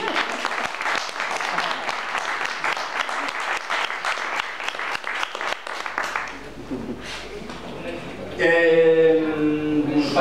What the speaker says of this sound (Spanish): para él pido un aplauso